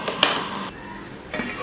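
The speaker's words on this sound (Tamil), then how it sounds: "இது போல் நல்லா கிளறி விட்டு வேக வச்சாச்சு." Potato slices frying in a pan for a fry dish, stirred in two bursts of scraping and sizzle with a quieter simmering pause between them, close and alone.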